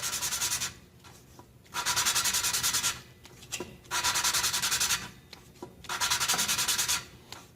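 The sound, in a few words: lapping a Toro 724 engine valve against its seat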